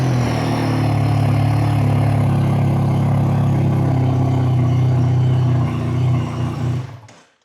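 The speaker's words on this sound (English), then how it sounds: "let's crank on the bike and see what happens" A motorcycle engine runs loud and close with a steady low rumble and idle clatter, then cuts off and fades to silence near the end.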